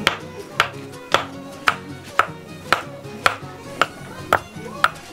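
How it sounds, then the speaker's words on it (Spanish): Stone being chiseled by hand to shape metates and molcajetes in Machetla, Huejutla, Hidalgo: sharp, evenly spaced metal-on-rock strikes, about ten blows at a steady half-second rhythm, close and clear with no talking. "es bastante duro estar picando lo que es la piedra"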